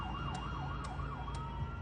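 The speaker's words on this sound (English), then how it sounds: "The ambulance is here now." An ambulance siren wails at a steady distance as a West Midlands crew arrives at a trauma scene, its tone sweeping up and down in a regular rhythm, faint but continuous under low road rumble.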